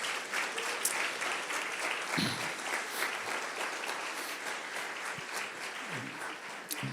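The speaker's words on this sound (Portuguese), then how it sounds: "Dê uma salva de palmas a Jesus." A church congregation applauds during a worship service, giving praise to Jesus with many hands clapping in a steady, dense, moderately loud roar that continues throughout, with a few faint voices mixed in.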